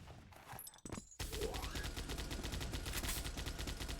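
Rockets fire in a Doombringer duel match, a rapid stream of sharp, rhythmic blasts that kicks in abruptly after a short gap and continues steadily, close and loud.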